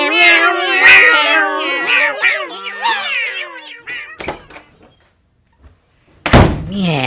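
Human voices imitate a cat, with a run of rising and falling meows in quick succession, then a sharp knock and a brief pause before another loud, close vocal burst.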